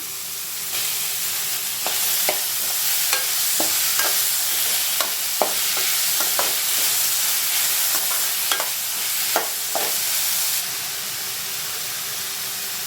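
Tomatoes stir-fried with drumsticks in a pan give a steady close sizzle, punctuated by regular scraping stirs of a spatula every second or so, no talk.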